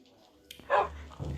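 A short dog bark from the Minecraft video game, a single clipped yelp over soft background sound.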